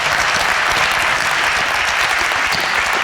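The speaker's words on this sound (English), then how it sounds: "If we could have a quick round of applause" A dense, even burst of audience clapping fills a school district annual meeting hall, loud and continuous with no talk over it.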